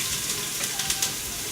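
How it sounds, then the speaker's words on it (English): Chopped garlic and diced onions sizzle in a pan over medium-high heat, a soft steady hiss with a few faint stirring clicks, no talking. "For like a nice medium-high heat, we want a good sizzle."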